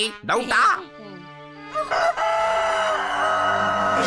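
A rooster crows loudly and close, its long call holding steady after a brief spoken exclamation at the start.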